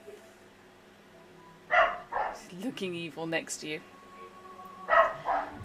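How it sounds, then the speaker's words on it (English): A dog barks in short bursts in a room during a tabletop role-playing session, with people talking over and between the barks. "probably hear the dog"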